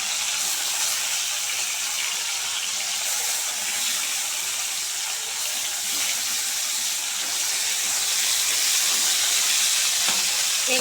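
A batch of small fish frying together in oil in a wok, producing an even, unbroken hiss of sizzling throughout.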